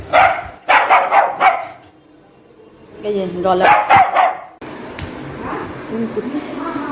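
A dog barks in quick loud bursts, several times in a row, then pauses while a person talks; another short bark follows under the voice.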